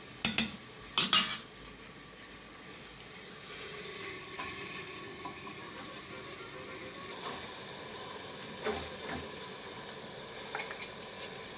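A few sharp metallic clinks of a spoon against a pressure cooker, then quieter intermittent scraping and stirring over a low background hiss.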